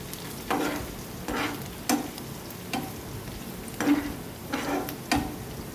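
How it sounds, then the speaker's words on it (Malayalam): Taro stir-fry being stirred in a pan, a soft steady sizzle beneath repeated scraping strokes of a spoon against the metal, about one every second, close up with no voices. "ഇതൊന്ന് ഇളക്കി കൊടുക്കണം നല്ലവണ്ണം ഇളക്കി കൊടുക്കണം"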